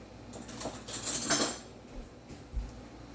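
A metal spoon clinks and scrapes against a bowl while stirring vanilla into a tiramisu mixture, with quick, close, fairly loud taps that build and then fade into a few softer knocks.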